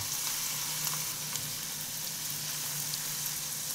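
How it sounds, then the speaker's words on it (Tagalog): Breadcrumb-coated hotdog sandwich frying in oil over low heat, a steady, close, broadband sizzle with no talk and only faint crackles throughout. "Pirituhin natin to into low heat para hindi agad masunog yung breadcrumbs natin."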